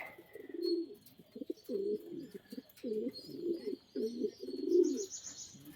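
Racing pigeons in a loft give a string of soft, repeated coos in quick succession, fairly near but quiet, with faint bird chirps above them.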